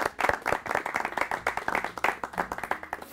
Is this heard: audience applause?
yes